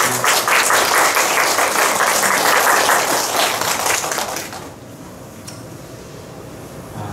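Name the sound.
congregation applause welcoming guests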